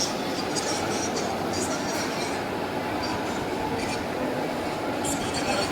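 A train rumbles at Howrah station in Kolkata with a steady, loud, dense roar and faint metallic squeals above it, heard from nearby on board or on the platform.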